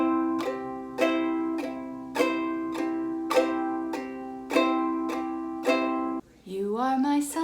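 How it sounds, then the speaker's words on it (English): Seven even downward strums on a ukulele brushed with four fingers and no thumb, each ringing chord struck about once a second and left to decay, close and clear, followed by a brief sliding note. "Number 2, we'll do a down, down strumming motion."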